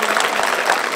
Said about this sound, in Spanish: nuevamente un aplauso para el señor Pablo Lozano